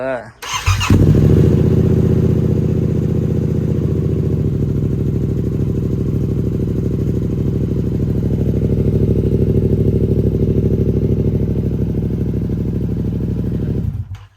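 A Yamaha R7 sport motorcycle with a Burnout exhaust and no catalytic converter cranks and fires up, then settles into a steady, loud idle rumble for the rest of the clip before cutting off.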